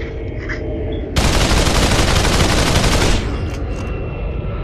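Loud, dense automatic gunfire from the VR battle royale game Population: One bursts in for about two seconds over ongoing game background noise, then cuts off abruptly.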